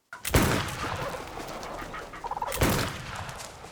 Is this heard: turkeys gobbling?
yes